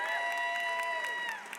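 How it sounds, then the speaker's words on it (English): Audience clapping at a Beyond Limits event in Limerick, a soft wash of applause under sustained tonal music or ringing, moderately loud and tapering off at the end. "Give him a clap."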